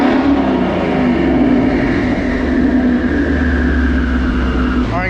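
A twin-turbo 2019 Mustang GT on a dyno pull with fresh 93 octane: a loud, steady engine roar with a sustained rising tone held throughout, ending with a brief whooshing spool-down.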